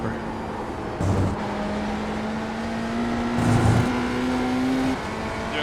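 A race car engine in iRacing, held at partial throttle, drones steadily with a sustained tone, interrupted by brief gear-change blips and a rougher surge, close and continuous.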